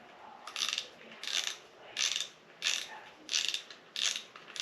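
A Shakespeare fishing rod reel being loosened, its ratchet giving a run of evenly spaced metallic clicking bursts, about seven in a row, close and clear with a faint hiss between them.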